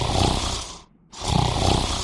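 A person imitates loud snoring: two long, rasping inhaled snores with a brief silent pause between them, close and alone.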